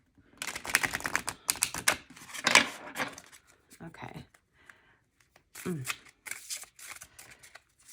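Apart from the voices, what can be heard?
shuffling tarot cards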